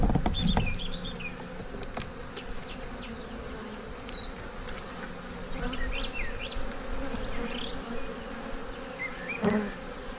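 Honey bees buzzing steadily at an open hive during a queen search while a colony split is made, a dense continuous drone of many insects close by, with a few brief louder passes near the start and end.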